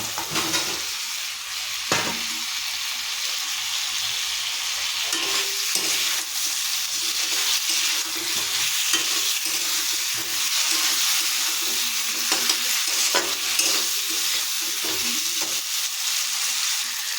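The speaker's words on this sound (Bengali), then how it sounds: "এবার ভাজা আলুটা ঢেলে দেবে দিয়ে কষতে থাকবো" Potatoes stir-frying in spice paste for mutton kosha: steady sizzling and frying with occasional scraping stirs of a spatula in a pan, continuous throughout with no talking.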